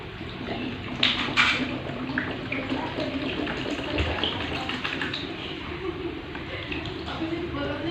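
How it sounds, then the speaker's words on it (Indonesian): Water poured into a container for a photosynthesis class experiment, a steady continuous splashing stream heard up close while a voice talks over it. "Jadi kita pertama masukkan air terlebih dahulu ke dalam wadah."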